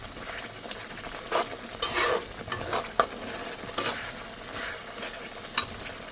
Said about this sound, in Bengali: এখানে আমি মশলাটা ভালোভাবে ভুনে নিচ্ছি